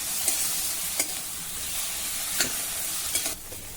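Whole spices, peppercorns, cardamom and cinnamon, sauté in a pan with a steady soft sizzle, broken by a few brief scrapes of a spoon against the pan.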